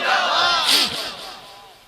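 A large crowd at a religious gathering chants takbir slogans back in unison, a loud massed roar of voices that swells and then fades over a couple of seconds.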